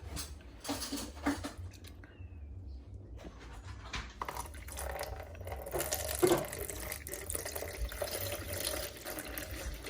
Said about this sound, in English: I'm going to pour into this bowl right here.